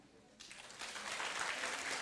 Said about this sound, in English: let's all pretend you want to give me a round of applause.